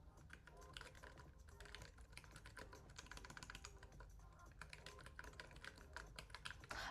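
A mechanical keyboard clatters through a typing test, with quick irregular keystrokes close to the mic at low volume and no talking.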